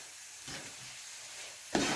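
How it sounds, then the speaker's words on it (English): A spoon scrapes and stirs a lamb and spring onion mixture in a pan, with soft scraping strokes over a faint sizzle and a louder stir near the end. "Give that a little bit of a mix all the way through."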